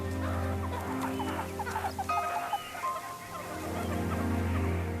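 Meerkat pups make incessant begging calls, a busy chorus of short, squeaky chirps and clucking notes repeating over a steady low hum, near and fairly loud without speech.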